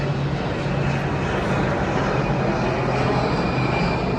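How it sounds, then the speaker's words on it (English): A propeller airplane passes overhead, its steady droning engine hum loud and continuous throughout, heard alone without talk. "As this airplane passes through overhead."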